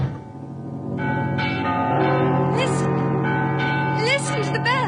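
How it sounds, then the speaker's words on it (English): Several bells ring together in overlapping, resonant peals with sustained tones and swelling, wavering overtones, loud and continuous throughout. "Listen to the bells. They're like plunging horses in the sky."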